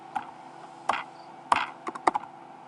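Someone types on a computer keyboard nearby: a few sharp, separate key clicks spaced irregularly, then a quick cluster of taps, against a quiet background.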